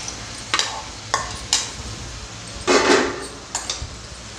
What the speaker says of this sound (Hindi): मैंने ब्रिंजल को रोस्ट करके उसका पेस्ट बना लिया है, साथ में टमाटर भी है इसमें। अब मैं इसे मिक्स कर रही हूँ।